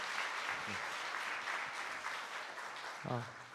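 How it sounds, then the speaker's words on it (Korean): Audience applause in a church hall after a tenor's performance at a parents and teachers seminar: a steady wash of clapping, moderately distant, with a voice speaking briefly over it. "뜨거운 박수 보내주시면 감사하겠습니다"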